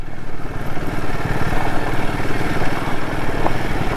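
A motorcycle engine-brakes in second gear on a rough off-road track in Nepal, a loud, close, chugging engine with rattling clatter and bumpy, uneven pulses throughout.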